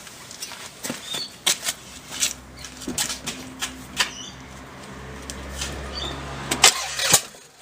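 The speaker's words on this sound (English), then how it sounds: "just go around and temporarily put the battery in and give it a crank over" A car engine is briefly cranked over on the starter during valve stem seal work, so a tight bolt backs off, heard as a churning whir with rattling metallic clicks, close and moderately loud.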